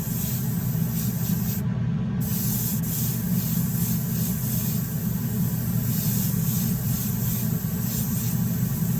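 A spray gun lays a light coat of primer paint onto the bed of a CXT, giving a steady, unbroken hiss with a low compressor-like rumble underneath for the whole stretch.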